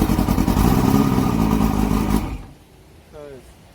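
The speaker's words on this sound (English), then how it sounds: "Crank the motor." Boat motor on a restored Pongrass Wave Rider cranking and catching, a loud close engine churn that runs for about two seconds then drops away, followed by a brief spoken voice.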